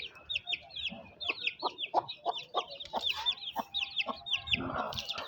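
Chickens and chicks cluck and cheep busily while being fed grain, a dense run of short, close, bright chirps and clucks, with a brief rustling burst near the end.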